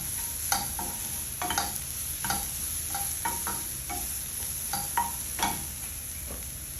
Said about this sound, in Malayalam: പിന്നെ ഒരു വെല്ലുള്ളി മുറിച്ചത് അതിലേക്ക് ഇടുക. ഇത് നന്നായിട്ട് വഴറ്റുക.